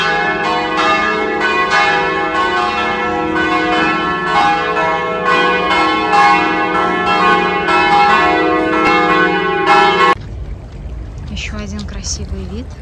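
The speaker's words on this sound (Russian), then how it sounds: "слушая, как звонят колокола." Church bells ringing loudly near a medieval citadel, a dense sustained peal with overlapping strikes for about ten seconds before cutting to quieter outdoor ambience.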